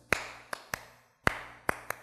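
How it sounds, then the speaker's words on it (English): Light taps beat out an uneven swing rhythm for swing dancing, six sharp dry hits in long-short groupings, close and quiet with no talk. "We want to do a swing rhythm. And it's going to sound like this."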